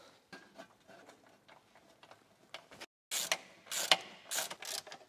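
Ratchet tightening screws on the gearbox of a Jeep Cherokee XJ in a garage, quiet clicking at first, then louder bursts of rapid ratcheting in short runs, close by.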